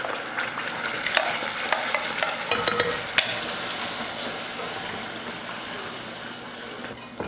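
Ground paste sizzles steadily in hot oil for tomato thokku, a dense continuous frying hiss with scattered stirring clicks and scrapes, loudest early on and holding at an even level to the end.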